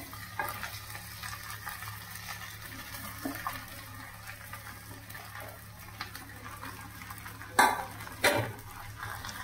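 Sabudana mixed with peanuts being sautéed in a pan, with a soft sizzle under scraping and stirring, plus two sharp utensil clanks against the pan near the end.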